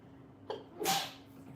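A single close sneeze: a short sharp intake followed by a loud burst, then quiet.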